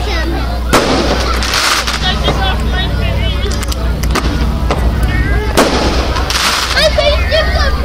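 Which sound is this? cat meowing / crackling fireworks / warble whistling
crackling fireworks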